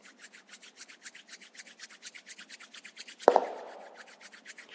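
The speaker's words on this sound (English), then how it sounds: "Rub your both palms together." Two palms rub briskly together in a quick, even rhythm of soft swishing strokes, close and quiet, with a single sharp clap-like knock partway through before the rubbing continues.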